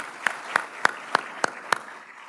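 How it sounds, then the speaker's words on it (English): Six sharp, evenly spaced hand claps ring out at a steady pace during an Army Materiel Command military ceremony, fairly close and with no talk over them. "Let's give them a big round of applause."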